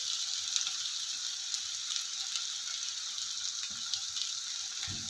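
Chopped onion and green chilli frying in a pan for sabudana khichdi, a steady hiss of sizzling oil with light scraping ticks, close and even throughout, no voices.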